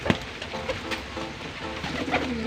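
A pigeon coos in courtship, soft low repeated calls close by over a light background rustle, with no talk.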